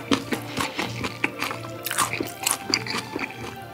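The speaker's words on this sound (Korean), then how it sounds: "상큼하면서 살짝 달면서 아삭아삭한 식감이 느껴지는 이 코울슬로 조합" Crisp, crunchy coleslaw served with chicken and pizza from Mom's Touch is chewed up close, giving a rapid series of moist crunching bites with no talk.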